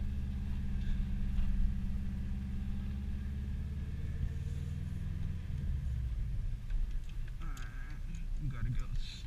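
A 2002 Subaru WRX bugeye with no power steering drives along, its low engine rumble and road noise steady and close from inside the cabin, with a faint squeal and some rattling toward the end.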